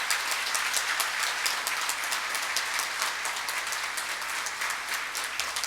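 An audience at a closing ceremony of a legal congress applauds, a dense sustained wash of many hands clapping, steady and moderately distant with no voices on top.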